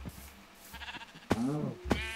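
Sheep bleating in Minecraft, two or three wavering bleats close by, the last pair loud and drawn out, with a few soft thuds in between and no talking.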